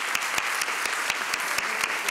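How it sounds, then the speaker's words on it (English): An audience at a JavaScript conference talk claps for Alex Kloss, a steady ripple of applause at moderate distance that carries through the whole stretch without any voices. "Can I just get a round of applause for Alex?"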